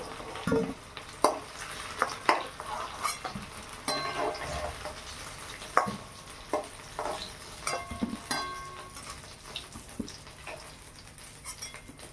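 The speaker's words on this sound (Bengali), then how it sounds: "নেড়ে চেড়ে লাল লাল করে ভেজে নিয়েছি" Potatoes frying in oil in a kadai are stirred with a metal spatula, sharp clanks and scrapes rising over a low, steady sizzle, close and uneven in rhythm.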